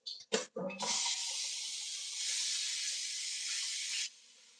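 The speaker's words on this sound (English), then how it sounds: "I'm just gonna throw it into my pan with oil" A few clattering knocks, then a loud steady sizzle of red meat frying in hot oil in a pan that fades slightly at the end.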